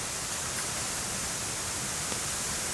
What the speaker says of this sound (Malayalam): ഇവിടെ നല്ല കാറ്റാണ്.